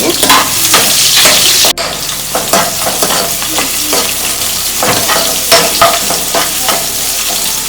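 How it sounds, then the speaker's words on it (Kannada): Two small chopped onions sizzle loudly in a hot oiled pan for curry leaf chitranna, with rhythmic scraping stirs of a spatula cutting through the continuous frying hiss. "ಇದಕ್ಕೆ ಫ್ರೈ ಮಾಡ್ಕೋಬೇಕು ಇವಾಗ ಅದು ಫ್ರೈ ಆಗಿದೆ ಈರುಳ್ಳಿ ಗೋಲ್ಡನ್ ಬ್ರೌನ್ ಕಲರ್ ಬಂದಾಗೂ"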